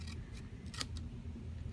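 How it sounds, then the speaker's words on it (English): Scissors trimming a sheet of paper while storing craft dies, a few quick, soft snips at close range in a quiet room. "I am going to take my scissors and trim off a little bit of this paper"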